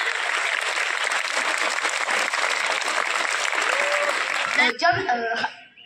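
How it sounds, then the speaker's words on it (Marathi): Dense, sustained applause from an audience at a Marathi Language Day event fills most of the stretch, then thins and stops as a voice begins speaking near the end. "तर टाळ्या कमी नाही, जोरात."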